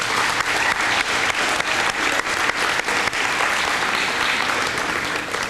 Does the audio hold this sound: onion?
no